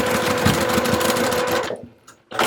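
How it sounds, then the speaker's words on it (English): Sewing machine top stitching across the folded edge of fabric on a small zip-around wallet, a close, loud, fast mechanical chatter that runs steadily, stops briefly near the end, then starts again. "I'm going to push that fabric back and top stitch right across that folded edge"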